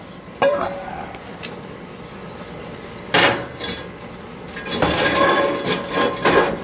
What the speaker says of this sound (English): put a cast iron skillet, baby